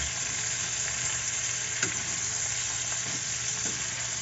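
Food frying in a pan while being stirred, a steady low sizzle throughout with a few soft scrapes of the utensil, fairly quiet and without talking.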